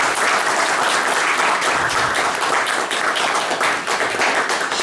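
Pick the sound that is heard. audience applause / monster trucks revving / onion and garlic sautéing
audience applause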